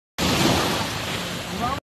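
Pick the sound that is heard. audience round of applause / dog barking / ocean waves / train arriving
ocean waves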